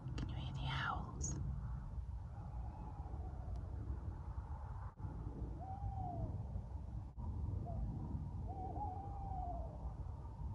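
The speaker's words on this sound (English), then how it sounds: "we're going to leave you with the sound of the owls late that night." Owls hoot late at night near a narrowboat moored on a waterway between Welford and Theddington, giving a few faint, distant calls spaced seconds apart over a steady hiss of background noise.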